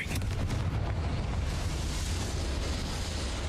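A Confringo spell explodes in a wizard video game: a sharp blast at the start, then a loud rumbling roar that fades slowly.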